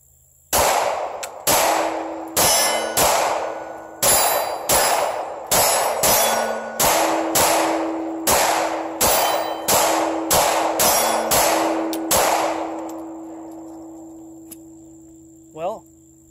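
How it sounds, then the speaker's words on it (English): A Steyr M9A1 Gen4 pistol fires steel-case ammunition at steel targets in a rapid string of about sixteen sharp, loud shots, each followed by a ringing metallic clang. Firing stops and the ringing fades, and a brief voice follows. "Right now, we're going to get down to some Steyr shooting."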